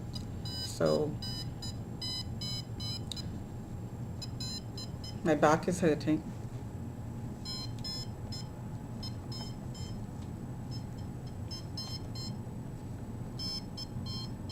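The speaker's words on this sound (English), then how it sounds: "So the timer is started again." Electronic timer beeping in rapid repeating bursts of high tones through most of the clip, moderately loud and close, with a person talking briefly over it.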